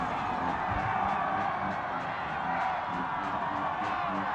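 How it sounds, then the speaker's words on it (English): A crowd at a high school football game cheers continuously, a dense wash of voices and whoops that holds at steady volume from start to finish. "Hear the crowd out there really behind their Bulldogs."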